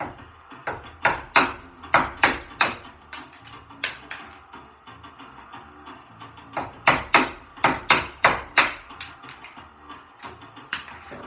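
A chisel nibbling into wood near a marked line, a series of sharp, close woody knocks in quick bursts, pausing briefly midway before another run of strikes.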